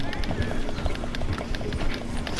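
Horse hooves galloping at a fast, rhythmic pace in Red Dead Redemption 2, close and steady, with in-game rumble beneath.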